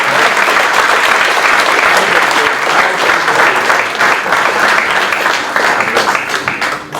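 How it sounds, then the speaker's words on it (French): An audience in an auditorium in Basse-Terre bursts into sustained, loud applause, dense clapping filling the hall for several seconds before tapering slightly near the end. "que je vous demande d'applaudir"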